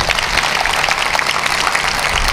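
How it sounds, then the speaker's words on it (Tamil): Dense, loud audience clapping during a Tamil motivational speech, a brief continuous burst with no talking over it. "அவளுக்காவது ஒரு தடவை கைத்தட்டுங்க"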